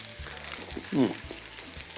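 Beef for nachos cooks in a pan with a faint, low sizzle and a few light stirring scrapes, a brief murmur rising in the middle.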